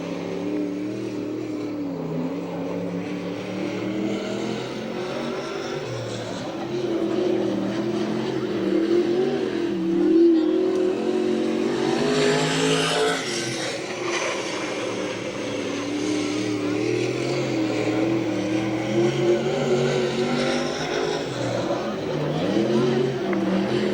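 A 360 sprint car, number 7, runs a timed lap at a Santa Maria, California oval, its engine a steady loud roar that swells around mid-lap, with an announcer's voice running over it throughout.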